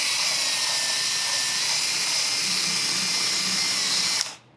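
A power drill scrubs old crumbling foam off the headliner board of a Volkswagen New Beetle, a steady, loud, close whine running without a break for about four seconds before it cuts off abruptly.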